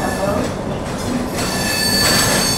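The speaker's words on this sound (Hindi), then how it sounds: "अभी आप लोग गेस करो सामने कौन सी ट्रेन आ रही होगी प्लेटफॉर्म एक पर।" A passenger train rolls into platform one at an Indian railway station, a loud, steady rumble of wheels with thin metallic squeals ringing over it, close by and continuous.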